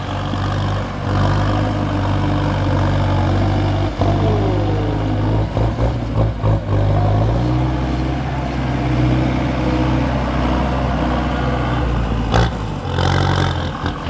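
A heavy tractor engine runs steadily close by, a deep continuous rumble that shifts pitch slightly as it works, with no voices.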